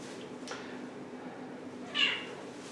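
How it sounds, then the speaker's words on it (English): Cats meow indoors, with a faint short call early on and a clearer, louder meow near the end over steady low room hum, with a rabbit kept in a pen in the same space. "There's cats behind me"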